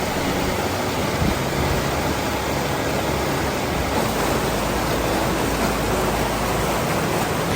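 Crystal-clear streams flowing through a national park, giving a steady, full rush of running water like a small waterfall or cascade, constant and close throughout with no voices.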